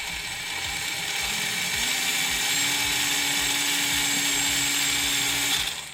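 Small 4WD RC drift car modeled on a Ford Fiesta ST, electric motor at full throttle giving a continuous high-pitched whine that holds steady and cuts off near the end, close up with no talk.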